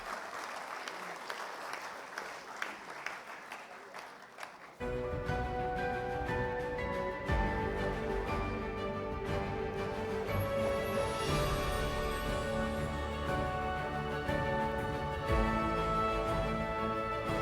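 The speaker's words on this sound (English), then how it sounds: "Can we hear a round of applause?" Audience applause at the 15th Vishwakarma Awards 2024 ceremony: the first seconds hold a faint, scattered patter, then loud, sustained clapping from a large crowd begins and continues to the end under strong amplified music.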